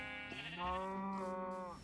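A single drawn-out bleat from a Minecraft sheep, close and clear, wavering for nearly two seconds with a slightly synthetic, game-like tone.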